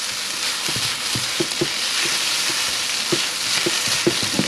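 Chicken fried rice sizzles steadily in a hot pan after oyster sauce goes in, a close, constant frying hiss broken by soft scraping stir strokes.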